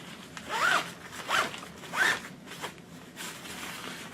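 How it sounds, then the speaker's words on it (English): A packing cube's zipper is pulled open in three or four quick rasping strokes, close and clear, followed by a faint rustle of fabric. "the zipper only opens from here all the way to here"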